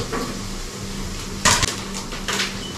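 Halved cherry tomatoes drop into a pan with a sharp metallic clatter and a couple of lighter knocks, heard close up against a quiet kitchen background.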